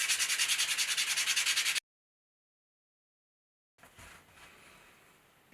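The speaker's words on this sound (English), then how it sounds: "Give this a sand." Sanding the edge of a leather wallet by hand makes a close, rhythmic rasping rub in quick strokes, then stops into silence before quieter, slower rubbing resumes.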